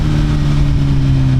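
A GSXR 1000 motorcycle engine braking through a downshift, a steady loud mid-to-low engine drone with strong harmonic tones, close and continuous for about a second and a half, with no talk.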